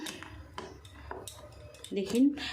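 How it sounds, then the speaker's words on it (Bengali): Semolina batter stirred in a bowl with a utensil, heard as a series of soft scraping and clinking strokes against the bowl, close and quiet, ending in a louder metallic clatter. "এবার আমি মিশিয়ে নেব।"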